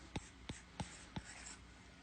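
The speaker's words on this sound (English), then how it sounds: "I have a new Apple Pencil." An Apple Pencil tapping and stroking on a tablet screen, four short, crisp, close contacts spaced about a third of a second apart, then a faint trailing scratch, with no talking.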